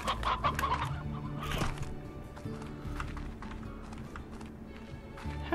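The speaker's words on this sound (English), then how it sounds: "I need to get these stony chickens." Stony chickens in the video game Slime Rancher cluck and squawk in quick, busy bursts, up close over a low game background hum.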